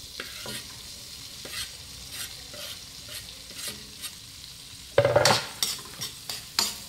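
Garlic hits a hot pan while crab is being cooked, giving a soft steady sizzle with repeated scraping stirs, then a louder burst of frying around the five-second mark, no voices.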